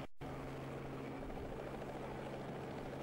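A private helicopter flies over São Paulo, its steady rotor drone holding constant and moderately loud throughout with no voices.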